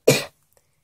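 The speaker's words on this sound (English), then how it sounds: "I cough really bad." A single short, harsh cough, close to the microphone, followed by silence.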